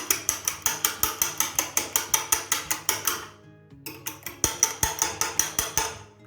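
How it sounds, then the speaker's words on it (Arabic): Apple cake batter is beaten in a bowl, with fast, regular clattering strokes in two bursts separated by a short pause. "غادي نضرب الخليط كامل"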